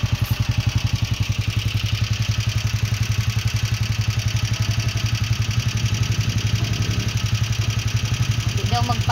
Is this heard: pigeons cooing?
no